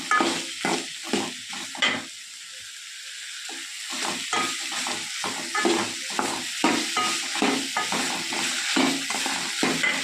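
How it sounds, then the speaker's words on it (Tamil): Chopped okra sizzles loudly as it is sautéed in a pan, with rhythmic scraping stirs cutting through a steady hiss that briefly settles before the stirring resumes. "வெண்டைக்காவை குட்டி குட்டியாக கட் பண்ணி வச்சுருக்கேன் அதையும் போட்டுக்கலாம் அதையும் நல்லா வணக்கிக்கலாம்"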